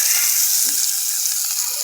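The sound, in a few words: sizzling tempering of mustard seeds, red chilies, asafoetida added to pan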